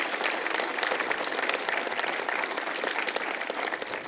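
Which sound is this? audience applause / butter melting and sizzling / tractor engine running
audience applause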